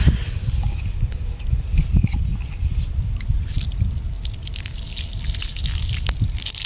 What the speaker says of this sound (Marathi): तर बघा इथं पाणी येतं बघा मित्रांनो